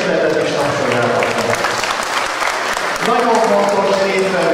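An audience claps together loudly and continuously at a school running event in Pásztó, with a brief dip before the clapping swells again; no talking is heard.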